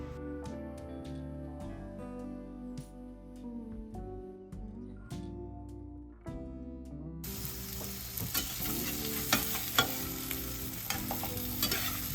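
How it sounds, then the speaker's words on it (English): Zucchini starts sizzling in a hot pan partway through, a loud steady crackle with scraping stirs, following a stretch of background music. "I'm gonna fry it up just really quickly"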